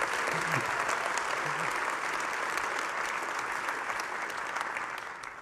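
A conference audience at DrupalCon Atlanta 2025 claps steadily, a dense, continuous wash of applause that holds for several seconds and then begins to fade.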